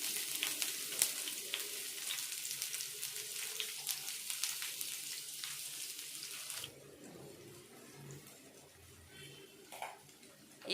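Onions dropped into a hot pan with mustard seeds, cumin and green chillies, a loud steady sizzle for most of the time, then a quieter, softer frying hiss with occasional light stirring noises.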